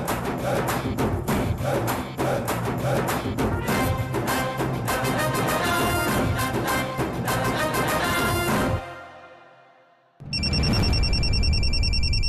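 A telephone rings loudly in a domestic scene, its repeated electronic tones playing over background music that fades out before a higher, bright ringing pattern starts again.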